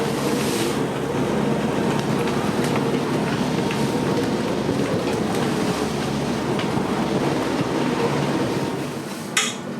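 Sailboat motoring into a 25-knot headwind, a steady dense rumble of engine, wind and water noise throughout, with a brief louder gust or splash near the end.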